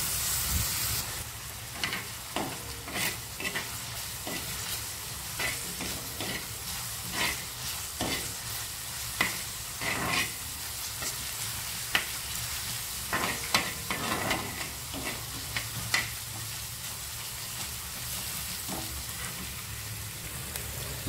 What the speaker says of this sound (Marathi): कांदा आपल्याला तेलामध्ये परतून घ्यावा लागेल